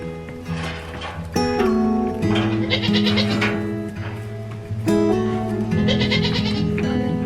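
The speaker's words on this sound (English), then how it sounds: "Go with Mama Goat" Goats bleat repeatedly on a farm, loud and close, with several overlapping calls rising and falling across the stretch and no talking.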